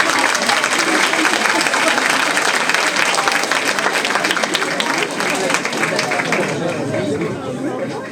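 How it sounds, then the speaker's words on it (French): An audience at the Miss Yonne 2024 pageant gives loud, sustained applause for the candidates, heavy and continuous with crowd murmur, easing a little toward the end. "On peut les applaudir bien fort."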